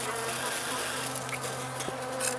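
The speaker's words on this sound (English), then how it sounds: "They're buzzing me. They're in my ear. They're in my face." Package honeybees being hived buzz close and loud in a continuous dense hum, with individual bees whining past near the microphone and no talking.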